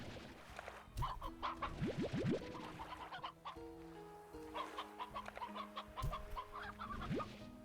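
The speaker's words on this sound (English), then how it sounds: "why we got a rooster out?" Rooster and hens in the Slime Rancher video game cluck repeatedly in a busy, overlapping chorus, with short rising squawks and calls layered over steady game background music.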